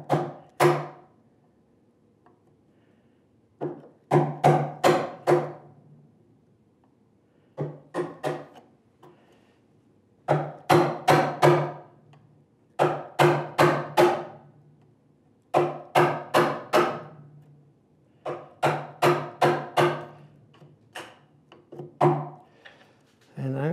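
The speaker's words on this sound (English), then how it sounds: "I'm going to change between my chisel and a rasp" Chisel and rasp working wood for a workbench drawer: repeated bursts of rapid, rhythmic rasping strokes in clusters, close and fairly loud, separated by short quiet pauses.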